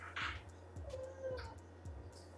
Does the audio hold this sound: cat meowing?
yes